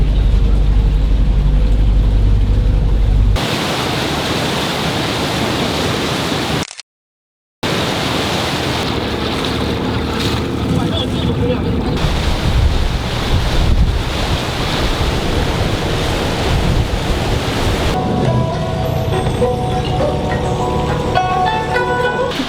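Rushing water and breaking waves roar loudly during a boat ride on a river in China, mixed with heavy wind buffeting the microphone, continuous and close throughout with a short gap midway.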